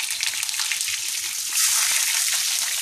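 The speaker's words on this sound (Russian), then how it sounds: "Но обжариваем также на очень большой температуре" Onion and mixed vegetables fry in a pan over very high heat, giving a bright, steady sizzle with scattered pops and crackles that grows louder partway through.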